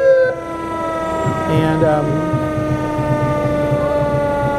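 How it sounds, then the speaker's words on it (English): Fire truck sirens, including a hook and ladder truck, wail loudly and steadily as the trucks roll down the street in a Christmas parade in Glendora, with crowd noise and a brief voice underneath. "sirens wailing, and they're coming flashing down the street"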